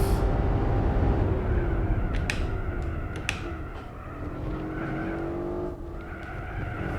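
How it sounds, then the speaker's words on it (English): A race car in Gran Turismo 4 brakes hard, and its tires squeal and skid in a sustained, wavering screech. An engine drone stays underneath, with a few sharp clicks partway through. "way too much braking there"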